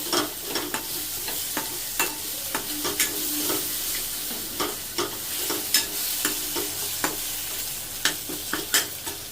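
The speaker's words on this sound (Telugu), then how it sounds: "అల్లం వెల్లుల్లి వేసి బాగా కలుపుకోవాలి" Ginger garlic paste frying and being stirred in a pan for fish curry, a soft steady sizzle with repeated sharp scrapes and clicks of the spoon against the pan, fairly quiet and close, no talk.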